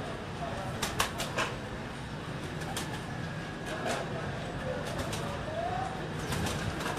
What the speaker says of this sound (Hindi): ये ओरिजिनल फनियर कबूतर जो है आपको उसका शौक करवाया जा रहा है।